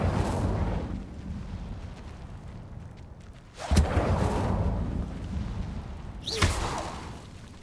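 The Incendio fire spell is cast in battle in Hogwarts Legacy, producing a continuous roaring, rumbling blaze with two sharp fiery bursts and whooshes several seconds apart, loud and close, with no talking.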